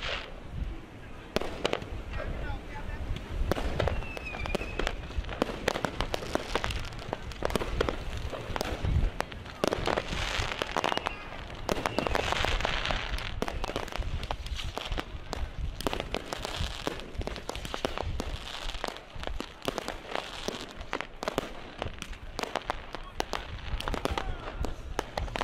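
New Year's fireworks go off at midnight on a beach at the tide line on Sylt, a long, dense stretch of cracks and bangs of varying distance, with faint voices of a crowd underneath.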